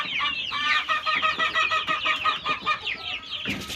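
A small flock of laying hens clucks close by in a busy, overlapping rhythm of short calls that continues throughout.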